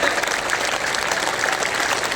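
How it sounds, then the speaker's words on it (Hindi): Large crowd applauding at an election victory rally in Vijayraghavgarh, a dense, continuous roar of clapping at steady loudness with no pauses. "सभी का जोरदार तालियां, और जोर से आवाज आनी चाहिए इन तालियों का।"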